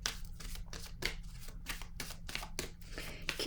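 A deck of tarot cards shuffled by hand at close range, giving a steady run of crisp riffling bursts roughly every third of a second over a low background hum, with no talking.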